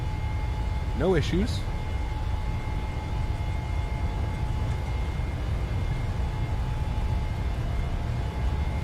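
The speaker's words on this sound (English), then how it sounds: "Takeoff power set. Airspeed's alive. 80 knots." Airliner engines roar through a takeoff roll in Microsoft Flight Simulator, a steady broadband rumble and hum that holds throughout, with a brief rising whine early on and a voice briefly speaking over it.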